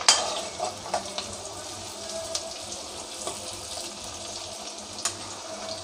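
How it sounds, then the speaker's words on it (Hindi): Pasta ingredients with chopped green chillies sizzle in a pan while a spoon stirs and scrapes through them, a steady fry punctuated by occasional clinks, close and fairly quiet. "तो अब मैं इसको अच्छे से मिक्स कर लूँगी।"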